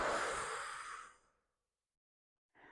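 A long, breathy exhale during a guided breathing exercise in a workout session fades out after about a second, then silence, then the start of the next breath near the end.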